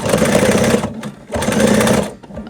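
A sewing machine runs in two quick bursts, stitching fabric for a donut-shaped dog toy, loud and close with a brief pause between runs.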